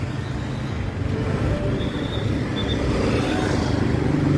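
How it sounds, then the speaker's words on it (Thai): Busy car traffic rumbles along a street outside a school on a morning, a steady loud wash of engines and road noise with vehicles passing close by. "รถยนต์ก็ค่อนข้างจะสับไปสนมาเลยนะครับ"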